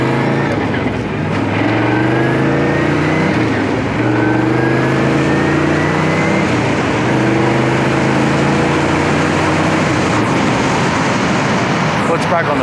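A 1993 Lister Corvette drives along with its engine running steadily and loudly, the low rumble shifting in pitch with speed, close and continuous throughout.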